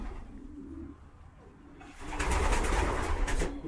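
Pigeons coo softly nearby, then a louder burst of fluttering and rustling takes over in the second half.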